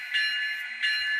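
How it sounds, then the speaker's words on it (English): A locomotive bell on a small switcher rings twice in steady strokes, loud and close, with a sustained metallic ring between hits. "And we'll shut this bell off."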